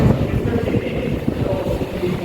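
Steady wind gusting across a microphone near a floating bridge by a large Shiva statue and temple tower, a continuous low rumbling roar with no break.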